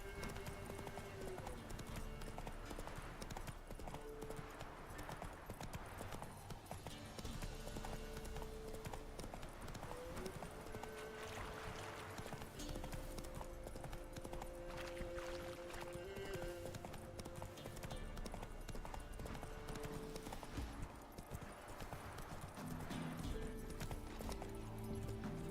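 Steady clip-clop of a horse's hooves from The Witcher 3: Wild Hunt, a continuous trotting rhythm that runs the whole time over game music, with faint talk in places.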